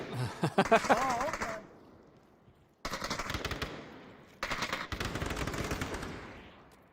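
Rapid automatic gunfire rattles in bursts during a firefight in the VR shooter Onward, with a short pause before two more sustained volleys, close and loud.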